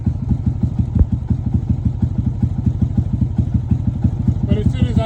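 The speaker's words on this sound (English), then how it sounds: "But as soon as I gassed it, I raised the idle." A motorcycle engine idling low with a steady rapid thumping pulse, close and loud, its pitch rising slightly near the end as the throttle is opened to bring up the idle.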